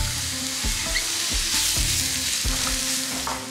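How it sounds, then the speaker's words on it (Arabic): Onions sizzle and fry steadily in a hot pan during home cooking of a Ramadan recipe, with a broad continuous crackle and several soft stirring bumps, close and alone with no talk. "هنا غادي نزيد البصله"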